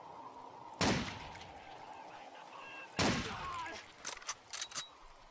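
Gunfire from a weapon in the first-person shooter Blade of Agony, two loud sharp bursts with decaying tails a couple of seconds apart, followed by a rapid string of smaller cracks, with in-game noise underneath.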